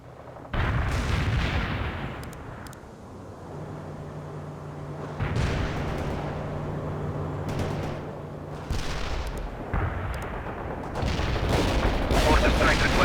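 A mortar barrage in the video game World in Conflict, heavy booming blasts and rumbling explosions rolling continuously, loud and sustained, with a few sharper impacts and radio-style voices talking over the fire.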